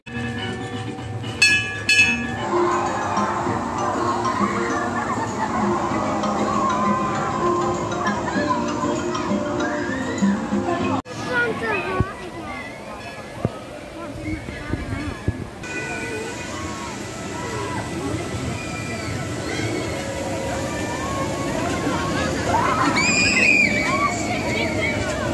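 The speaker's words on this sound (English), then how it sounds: "So that's it, we just got off the runaway mine train." Runaway Mine Train roller coaster at Alton Towers on a very wet day, a steady loud rumble and rattle of the ride running on its track, with voices and shouts mixed in throughout.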